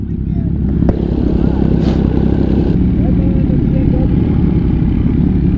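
MV Agusta motorcycle riding through downtown Austin, its engine a steady close drone with road and wind rumble throughout, a brief burst of noise partway in, no clear revving.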